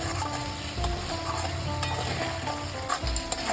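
Spice masala with chopped green chili sautés in a pan in a steady sizzle, broken now and then by a stirring spoon's scrapes and soft knocks against the pan, with no voices.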